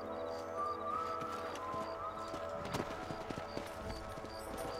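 Horse hooves clip-clop steadily in Red Dead Redemption as a mounted rider moves along, a continuous rhythmic patter over a dense game soundtrack.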